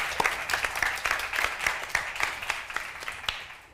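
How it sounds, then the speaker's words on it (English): An audience applauds to welcome a speaker back at a business gathering, with distinct individual claps standing out in a loose rhythm over a thinner bed of clapping that fades toward the end. "Please welcome back in a big round of applause"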